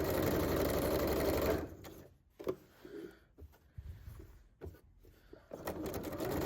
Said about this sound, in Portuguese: Eu vou girando essa peça para conseguir costurar.